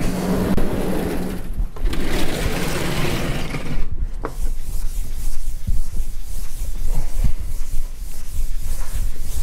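Chalk on a lecture-hall blackboard being rubbed clean with an eraser, a steady broad scraping sweep lasting several seconds, with brief pauses between strokes.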